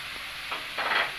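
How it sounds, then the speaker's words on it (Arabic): Onion and green peppers sauté in a pan with a steady soft sizzle, swelling briefly as they are stirred, close and fairly quiet, no voices. "ونشوح البصله"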